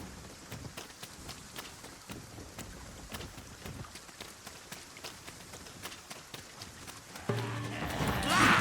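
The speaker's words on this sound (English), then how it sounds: "Must we do battle amidst this dreadful downpour?" Heavy rain pours steadily in the fantasy game Dragon's Dogma 2, a dense hiss with scattered drop taps and faint hoof-like clopping, swelling louder and brighter near the end.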